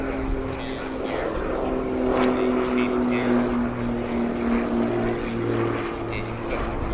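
A Cape Air Cessna 402 twin-prop approaches to land at O'Hare International Airport, its propeller drone steady and fairly loud throughout, with a voice talking over it.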